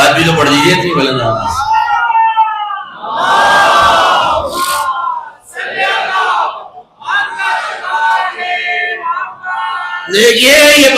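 A congregation at a majlis in an imambargah in Quetta recites salawat aloud in unison, loud crowd voices rising in several surging bursts with brief lulls between.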